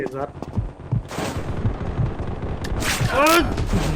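Gunfire in the first-person shooter game Combat Master, a scattering of short shots popping over busy game noise while a player talks excitedly throughout.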